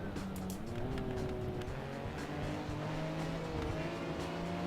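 A vintage race car in the video game Assetto Corsa drives on, its engine droning steadily and its pitch rising and shifting as it moves through gears. The sound is continuous and moderately loud.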